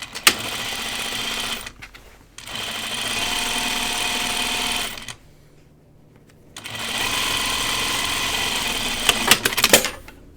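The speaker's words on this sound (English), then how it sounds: "I'm going to sew it 1/4 of an inch first." A sewing machine runs a quarter-inch first pass of a French seam on flannel pajama bottoms, whirring in two long steady bursts with a pause between them, close and loud, with small clicks at the edges.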